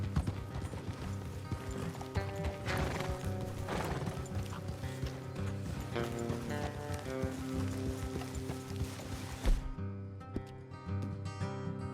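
Horse hooves clip-clop steadily on a road in Red Dead Redemption 2, several horses walking at a rhythmic pace over a musical game score, slowing and stopping near the end.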